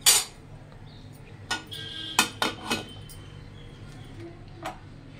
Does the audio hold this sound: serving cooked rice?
yes